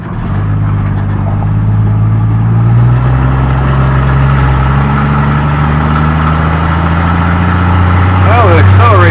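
A 1978 Chevy C10 pickup, off the road for 24 years before revival, drives with a loud, steady low engine drone that swells slowly as it pulls, its pitch climbing gradually under the rumble.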